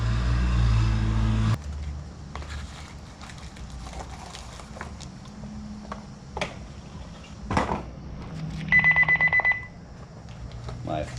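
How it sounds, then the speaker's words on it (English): A mobile phone gives a short burst of rapid pulsed electronic beeps for an incoming text message during a Dana 44 axle seal replacement, heard near the end after scattered clanks and shuffling in a quiet workspace. "My phone beeped."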